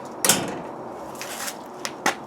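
A Polaris Ranger side-by-side's door knocks and rattles on its hinges, giving a few short, sharp metallic clacks spread unevenly over a couple of seconds with quiet gaps between them.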